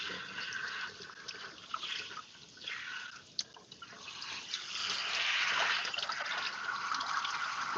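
Running tap water rinses a wig in a sink with a steady splashing hiss that swells louder toward the end, close and alone with no talking.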